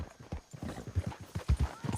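Horse hooves clop in a quick, uneven rhythm as a rider sets off down a canyon in the Red Dead Redemption 2 video game, with several close, solid hoof strikes over a quiet background.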